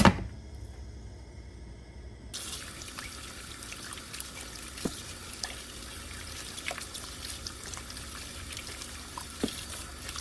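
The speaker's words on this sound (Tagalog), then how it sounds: "Kailangan hugasan natin ng mabuti." Food, salmon for sinigang, washed under a running kitchen tap: a steady splashing trickle of water that starts after a brief quiet opening and continues evenly, with small clinks and splashes as the food is handled.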